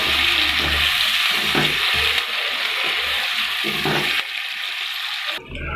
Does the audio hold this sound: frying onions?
yes